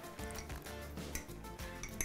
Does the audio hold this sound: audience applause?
no